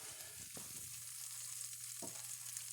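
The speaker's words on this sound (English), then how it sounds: "Can you hear that sizzle?" Fried bologna sizzling in a pan on high heat, a steady close crackle and hiss with a couple of brief clatters of a utensil, no voices.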